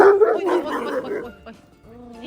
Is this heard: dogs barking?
yes